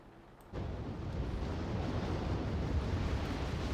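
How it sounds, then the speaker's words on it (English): A refinery is blown up in the real-time strategy game Act of Aggression: a sudden loud, broad explosive roar kicks in and keeps rumbling steadily to the end, with no voices over it. "But ZX Cannon is already making his push, just blowing up a refinery and bugging off."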